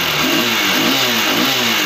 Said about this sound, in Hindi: बाइक प्रॉपरली चल रहा है।